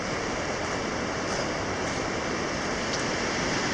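The Pigeon River, on the border between the U.S. and Canada, rushes with a steady, dense roar of flowing water that stays loud and unbroken throughout.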